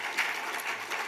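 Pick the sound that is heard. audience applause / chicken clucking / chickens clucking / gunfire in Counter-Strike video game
audience applause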